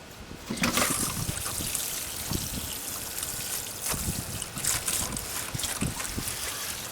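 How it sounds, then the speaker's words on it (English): Water pours from a hose or can onto freshly planted basil containers, a close splashing and trickling wash that rises and falls in a few bursts over a steady hiss. "Let's water it in."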